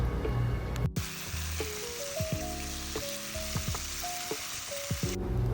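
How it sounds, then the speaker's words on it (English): Chopped cabbage with curry powder fries in a pan, a steady loud sizzle running throughout while a utensil stirs it with repeated scraping knocks. "So I continue to give it a very good mix to make sure everything fries properly."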